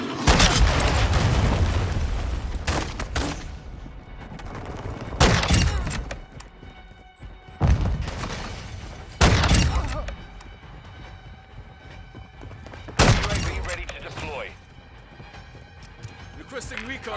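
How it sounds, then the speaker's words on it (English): A cruise missile strike in Call of Duty multiplayer, with heavy booming impacts and rumbling blasts recurring several times, loud and close, mixed with game announcer voice lines. "Friendly cruise missile inbound."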